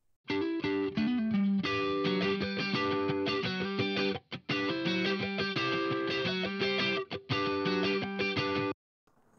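Two electric guitar parts, one distorted, play together in a funky, choppy rhythm for a modern pop track, loud and up front, with a few short breaks between dense strummed phrases.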